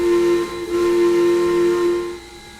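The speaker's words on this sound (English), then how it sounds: "Number 12 has a different whistle" A steam whistle on locomotive No. 12 in the Trainz TRS19 simulator gives one long, steady, tonal blast with a slight dip early on, then fades away.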